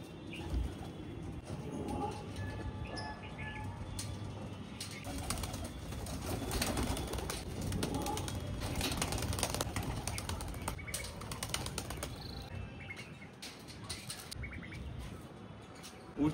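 A handful of pigeons, four or five, released from a pet keeper's flock give soft coos and bursts of flapping wings as they take off, the fluttering rising and falling at close range over quiet background ambience.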